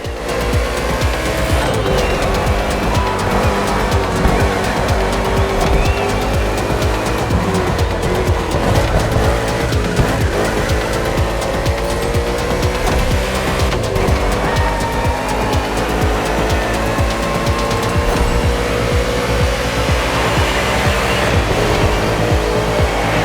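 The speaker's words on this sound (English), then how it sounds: "Hensen's car is returning to the race after a quick stop." NASCAR race cars in the video game The Crew Motorfest roar steadily at full throttle, loud multi-engine drone with rising and shifting pitch as cars race past, continuous for the whole stretch with no talk.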